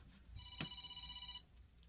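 A cellphone rings once with a short electronic tone, quiet and close, over a faint background hum.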